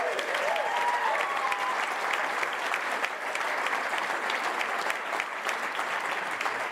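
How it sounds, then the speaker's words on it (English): Steady applause from wedding guests during a father-of-the-bride speech, many hands clapping evenly throughout with a few brief whoops early on. "certainly worthy of our applause"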